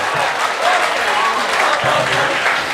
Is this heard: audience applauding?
yes